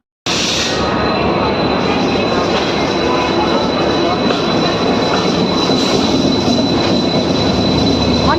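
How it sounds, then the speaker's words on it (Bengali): A train pulling into a station on a trip to Digha, a loud continuous rumble of wheels on rails with a sustained high squeal of braking wheels, close and unbroken. "আর ট্রেন এখন স্টেশনে আসছে"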